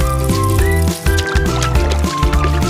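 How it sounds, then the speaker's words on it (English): Water balloons are filled with water outdoors in summer. A loud, close gurgling fill rises in pitch in short repeated runs. "I'm doing some more water balloons."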